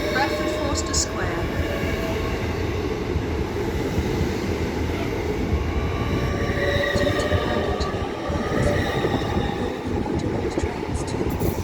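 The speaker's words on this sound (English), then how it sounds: "LNER Azuma going to Newcastle, departing Doncaster." An LNER Azuma train rumbles steadily as it departs Doncaster station, a continuous low roar with faint clatter and distant announcements over the noise.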